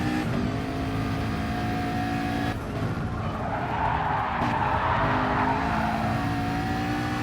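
Gr3 race car at Spa in a racing game, rear tires scrubbing and squealing into a left-hand corner over a steady engine drone, the squeal rising midway and holding for several seconds.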